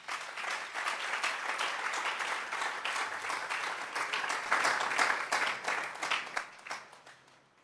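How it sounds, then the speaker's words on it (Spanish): A church congregation breaks into sustained applause, a dense wash of many hands clapping at once, fairly loud and even before tapering off near the end. "Démosle un fuerte aplauso al Señor."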